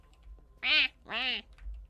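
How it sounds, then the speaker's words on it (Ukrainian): A duck gives two quick nasal quacks close by in a quiet outdoor setting, each call short and distinct, with a faint low background hum and no speech. "Качечка."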